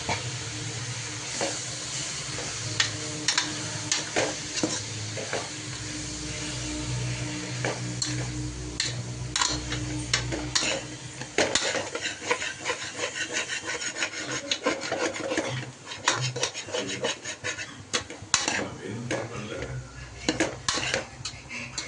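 Onions sautéing in a pan for mutton kuzhambu: a spoon or spatula scrapes and clatters against the metal pan in repeated strokes over a soft sizzle, with a few sharper knocks and no talking.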